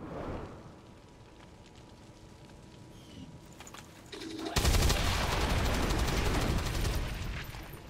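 Sustained gunfire bursts in XCOM 2: War of the Chosen, starting abruptly partway through and staying loud and dense until the end after a quieter stretch of ambient game sound.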